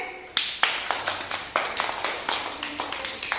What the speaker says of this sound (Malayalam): എന്നാൽ നിങ്ങൾക്ക് തന്നെ ഒരു ക്ലാപ്പ് കൊടുത്തേ